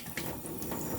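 Tap water running briefly over a peeled boiled egg in a kitchen, a short hissing splash of moderate level with no speech.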